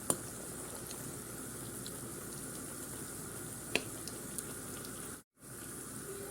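Chicken potato crispy rolls frying in hot oil, a steady, even sizzle and bubbling that carries on throughout with a couple of small pops and a brief dropout near the end.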